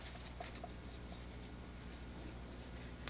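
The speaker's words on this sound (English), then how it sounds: "take and dry the brush on a paper towel" A paintbrush loaded with dark gray model paint dabs and rubs on a paper towel, making faint, soft scratchy strokes in short bursts close to the microphone.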